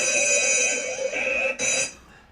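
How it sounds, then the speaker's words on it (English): A set alarm rings out loudly with a steady, sustained tonal beeping that breaks briefly near the end and then fades away, with no talk over it. "That was an alarm that you set up."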